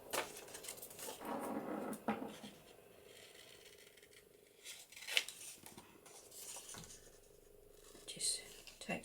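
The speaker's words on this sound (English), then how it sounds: "Now cut our corners off." Scissors snip the corners off paper pages for a blue floral journal, giving a few short, close cutting and rustling sounds at a quiet level, with soft handling noise between them.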